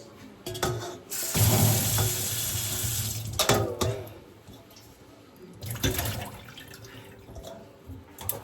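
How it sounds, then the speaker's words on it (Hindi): Running tap water splashes as saag greens are rinsed in a sink, a steady close gush with louder surges of water swirling around the leaves; no one speaks. "बस इस तरह से हमें 2-3 बार इस साग को धोना है। अब हम इसको जो है धो लेंगे।"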